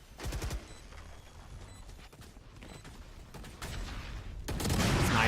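Sniper rifle fire in the Valorant tactical shooter rings out in sharp bursts over a low background din, with a few distinct cracks spread across the clip and a louder blast at the end.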